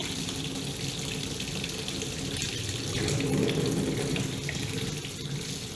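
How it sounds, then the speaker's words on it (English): Hot water runs at full blast from a tap fed by a faulty water heater, a loud, steady rushing hiss into a sink, alone and unbroken throughout. "so I let it run for a little while. The water is definitely hot."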